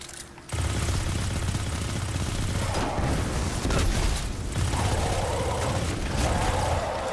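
Sustained gunfire and explosive booms in the Destiny 2 video game, a loud, continuous barrage that starts abruptly and rolls on for several seconds with brief dips between bursts.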